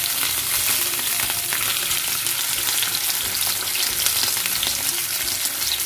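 Fish frying in a covered pan for Meen Pollichath, a steady, dense sizzle and crackle of hot oil running evenly throughout, close and loud with no voices.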